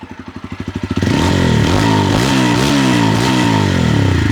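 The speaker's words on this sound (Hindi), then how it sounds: "एक बार मैं आप लोगों को अपाचे की भी साउंड जो है वो सुना देता हूँ।" A TVS Apache RTR 160 4V motorcycle engine cranks with a rapid starter chatter, then catches and settles into a loud, steady running idle with slight revs.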